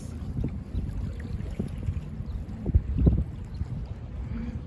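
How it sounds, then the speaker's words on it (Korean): Waves rock a kayak on open water off San Diego, a steady low wash with soft splashes against the hull and a couple of louder slaps near the end, mixed with wind. "이거 파도다, 파도."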